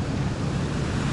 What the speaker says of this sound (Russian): Ну вот мы вышли к океану, друзья.